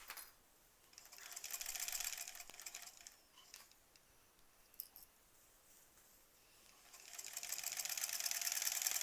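A sewing machine stitching quilt borders runs in two sustained bursts of fast, even whirring at the start and end, separated by a quieter pause with faint clicks.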